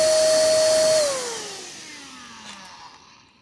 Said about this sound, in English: Using an air pump to simulate strong wind blowing toward the air intake